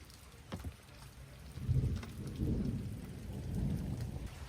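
Rain falls steadily while low rolls of thunder rumble and swell several times, fairly quiet and distant, with no voices.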